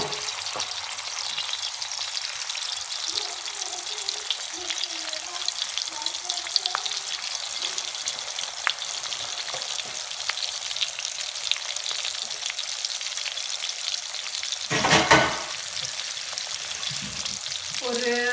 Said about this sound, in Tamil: கொஞ்சம் காஞ்ச பிறகு ஃபிஷ்ஷை ஃப்ரை பண்ணி எடுத்துடலாம்.